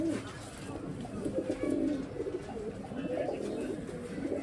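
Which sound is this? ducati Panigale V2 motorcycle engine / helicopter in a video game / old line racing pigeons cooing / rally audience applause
old line racing pigeons cooing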